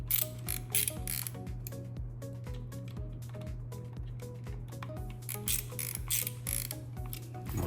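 A torque wrench ratchets in quick bursts of clicks while tightening a screw on a Canik Prime Radian handgun mount at a tabletop, close and crisp over a steady low hum.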